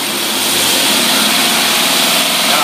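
An Edelbrock-equipped engine runs steadily on a test stand, a loud, continuous mechanical drone with no break from start to finish.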